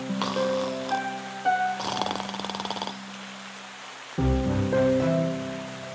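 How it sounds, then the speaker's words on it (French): A cartoon wolf's brief, rumbling snore with a rapid, rattling pulse plays over light music, then fades as the music continues. "Il ronflait si fort qu'il en faisait trembler les branches."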